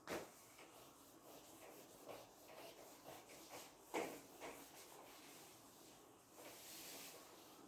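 A writing board is rubbed clean in a classroom, a soft, repeated scrubbing swish in uneven strokes at close range, fairly quiet, with no talk over it.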